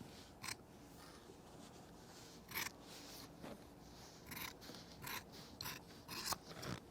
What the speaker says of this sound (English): I'm going to take my shears now and trim this real close here on the edge